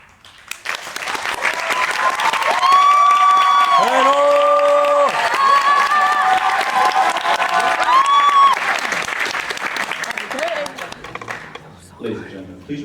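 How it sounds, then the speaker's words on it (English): At an oratory competition final, the audience bursts into loud sustained applause with cheering and whoops rising over the clapping, then fading toward the end. "Ladies and gentlemen, please remember to hold your applause"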